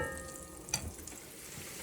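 Butter with garlic and thyme sizzles gently in a pan over moderate heat, a steady, quiet frying hiss with one small pop, heard alone.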